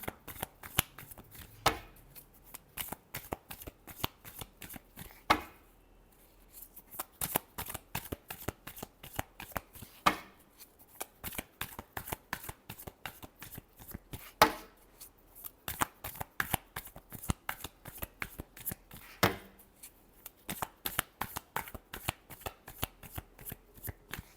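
Tarot cards being shuffled by hand, long runs of rapid, crisp riffling flicks and slaps in quick rhythmic bursts with brief pauses, close and clear, no speech.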